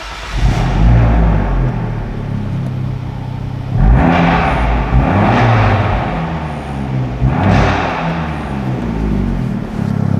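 An Abarth 124 Spider with a 1.4 engine and Record Monza exhaust starts and revs, loud and close, with a steady idle broken by sharp throttle blips near the start and again in the middle and end.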